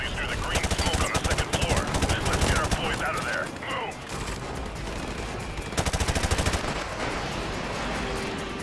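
Automatic gunfire in Call of Duty 4 Modern Warfare Remastered, rapid loud bursts with scattered shots and combat noise, continuous over the whole stretch, with voices heard now and then among the shooting.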